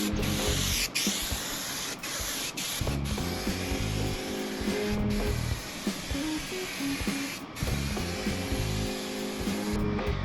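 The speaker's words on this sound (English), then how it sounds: "I only need to spray it grease. So we're going to spray the whole thing." A hissing spray from an aerosol can of grease, sustained and close, mixed with clicking and rattling mechanical noises and brief pauses.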